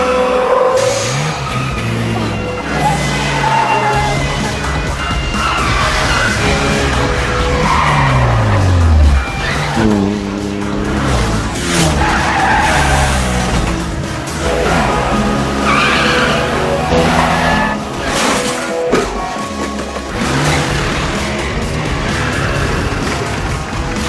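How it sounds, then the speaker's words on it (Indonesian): A film car chase, with police cars pursuing, brings loud tire squeals and skids over revving engines, with repeated sweeping screeches and bursts of acceleration throughout. "baru saja masuk ke mobil, polisi setempat yang juga mendapat perintah dari CIA pun langsung melakukan pengejaran"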